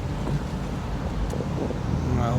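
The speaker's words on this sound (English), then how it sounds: "Hopefully you can hear it idling." A car engine idles quietly in a steady low rumble, with faint road and wind noise around it and a voice heard softly.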